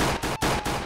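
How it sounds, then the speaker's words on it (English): Gunfire in a police-themed video game, several loud rapid shots in quick succession, close and dominant with no talking. "I'm trying to talk over the gunshots here"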